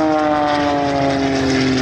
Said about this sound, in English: demonstrate the vertical capabilities of the XO300 airplane